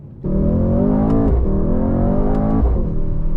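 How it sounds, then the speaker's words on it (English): A Mercedes-AMG GT 63 S V8 engine revs up sharply, holds a throaty roar with rising pitch, dips briefly, then climbs again, loud and close. "I'm grateful for whatever V8 noises I can hear"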